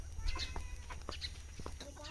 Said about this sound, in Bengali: মুরগি ধরবা সাজদা